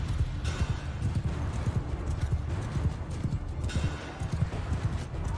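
Horses galloping in the video game Mount & Blade 2: Bannerlord, a dense continuous drumming of hooves with the occasional whinny, loud and close throughout a battle scene.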